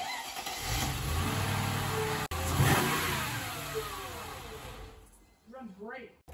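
A Mercedes C43 AMG with its hood missing fires up and runs, its engine noise loud and steady with a revving swell before cutting off; a voice is heard at the end.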